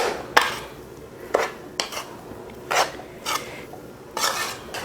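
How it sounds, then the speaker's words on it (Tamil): A spoon scrapes and clanks against a pan while potato masala is mixed, with separate strokes and knocks about once a second and quieter shuffling between them. "மொத்தமாக போட்டு அடியிலேருந்து கலக்காமல் ஒவ்வொரு சைடாக அப்படி கலந்துக்கிட்டே வாங்க"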